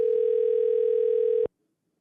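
A steady telephone dial tone sounds loud and clear while a phone call is placed, holding for about a second and a half before cutting off abruptly into silence.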